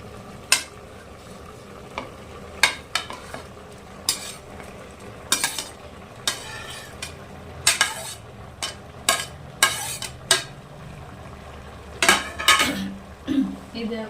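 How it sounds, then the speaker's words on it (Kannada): Capsicum being stirred into frying chilli chicken gravy in a pressure cooker, with a spoon repeatedly clanking against the metal pot in irregular sharp knocks over a low sizzle, and no talk. "ಇವಾಗ ಕ್ಯಾಪ್ಸಿಕಮ್ನೆಲ್ಲ ಹಾಕ್ಬಿಡ್ತೀನಿ"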